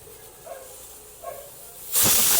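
After a short lull with faint murmurs, a pressure cooker whistle with a newly replaced washer bursts into a loud, sustained steam hiss that holds to the end.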